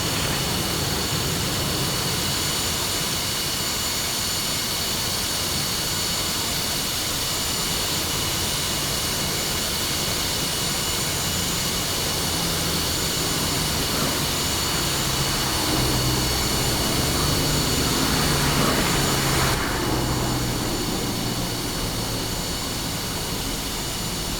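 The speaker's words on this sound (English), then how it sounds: "Engine start procedure with help of the external compressed air is similar to the start of the left engine." An F-5E jet engine spinning up in the DCS flight simulator, started with external compressed air; a steady loud whine and roar with a rising tone partway through and a shift near the end.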